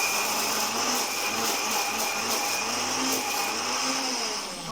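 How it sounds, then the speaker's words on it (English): A blender grinds chickpea hummus with olive oil and salt, a loud continuous whirring drone close by that holds steady throughout and then trails off, with no voices. "And now I'll grind it once again."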